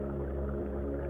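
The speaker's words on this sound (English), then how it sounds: "This is the song of a humpback whale." A humpback whale sings underwater, a low sustained tonal moan with layered harmonics, steady and fairly quiet.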